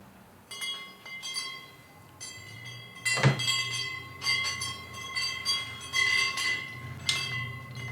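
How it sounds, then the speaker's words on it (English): Brass wind chimes improvised from a Baldwin door knob on a brass double rosette, towel bars and more rosettes, ringing in repeated bright metallic tones with a loud clang near the middle and shimmering sustained resonance. "Wind chimes, locksmith version."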